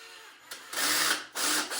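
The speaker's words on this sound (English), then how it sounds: "I'm barely using any speed on this power drill. It's just going real slow." A power drill whirs in short bursts at low speed, close up, the motor rising and pausing between runs, drilling a hole in a guitar bridge.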